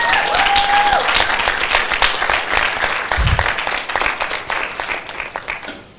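A live event audience applauds the sponsoring partners, loud continuous clapping from many hands that holds steady, then gradually thins and fades toward the end.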